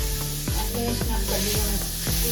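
Cluster beans with ginger paste, turmeric and spices sizzle loudly in a frying pan as a spoon stirs them, with a few scraping strokes over the constant hiss.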